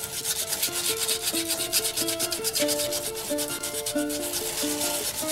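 Steady, continuous abrasive rubbing from sanding a hard eucalyptus wood box, close and fairly loud throughout, with a persistent tonal hum from the sander running beneath the gritty scrubbing.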